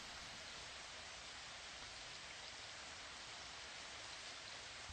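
Steady rain ambience on an evening, a dense continuous hiss of falling drops, even and unbroken throughout, moderately loud with no voices.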